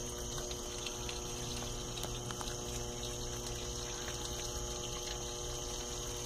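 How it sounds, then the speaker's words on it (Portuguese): Water falls steadily into the detergent dispenser of an Electrolux LT12F washing machine washing coloured clothes, a continuous close trickling splash over a constant pump-like hum. "Vocês viram que a água até mudou de posição de queda, né?"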